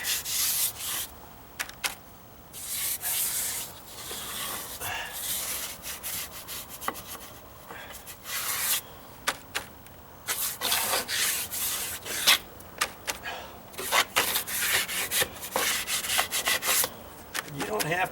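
Sealer being rubbed by hand onto wooden deck stairs, a steady scratchy rubbing with short pauses between strokes, close and fairly loud, with no talking.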